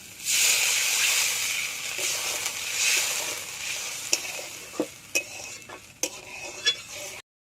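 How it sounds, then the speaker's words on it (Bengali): Water hits hot oil and fried spice masala of tomato and five-spice in a pan for a prawn kofta curry, a loud steady hiss that fades toward the end, broken by a few sharp clacks of stirring before cutting off. "মশলাটা কষানো হয়ে গেছে টমেটো নরম হয়ে গিয়েছে মশলাটাকে তেল ছেড়ে দিয়েছে দিয়ে দেবো জল"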